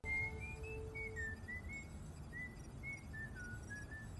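A person whistles a melody in a scene from Star Trek: The Next Generation, a clear, wavering tune of several short phrases over a low background hum.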